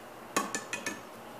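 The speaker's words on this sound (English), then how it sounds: "Once you've added all the ingredients, you'll want to go ahead and mix them all together." Dry baking ingredients, including baking powder, are mixed together in a bowl, giving four soft, evenly spaced knocks of a utensil against the bowl over a quiet background.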